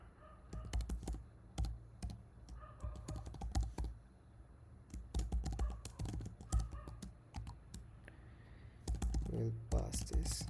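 Code being typed on a computer keyboard, steady close key clatter in quick irregular runs with brief pauses, continuing through most of the stretch without any voice.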